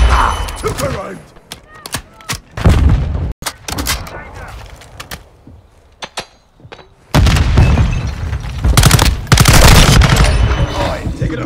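Heavy gunfire in Call of Duty: Modern Warfare 2 multiplayer, loud bursts and single shots in clusters with quieter gaps between them, along with game voice callouts.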